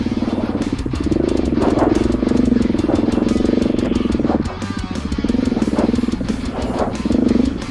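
A dirt bike motorcycle rides on a trail loop in Alabama, its engine loud and close, revving in surges and easing off, with no talk.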